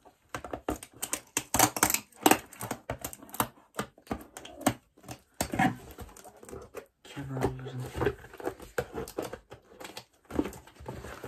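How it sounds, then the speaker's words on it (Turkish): Scissors cut through packing tape on a parcel of books, giving a run of close, sharp snips and crackly clicks with a voice talking over them. "Bantları keselim makasla."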